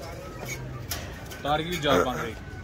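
Pigeons coo softly in a few low, throaty bursts, close by, mixed with a voice talking nearby.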